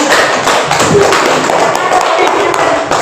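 A group applauding a teacher during a school classroom observation: steady, dense clapping throughout, fairly loud and close, with a voice briefly audible underneath.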